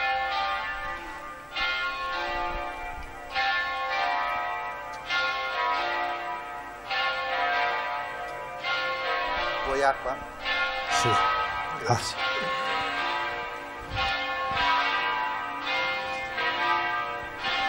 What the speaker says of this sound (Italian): facciamo passare questa campana